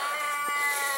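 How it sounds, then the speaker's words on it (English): Kittens meow loudly for food in a continuous, high-pitched, drawn-out wail, close and without pause. "Excuse the kittens that are screaming for food."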